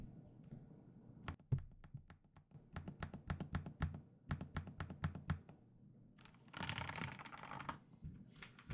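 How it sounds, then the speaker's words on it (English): Keys are typed close up on a computer keyboard with a hollow, boxy body, giving a quick run of crisp, deep clacks. Near the end comes a denser flurry of clicks, and there is no talk. "Backspace. The enter key."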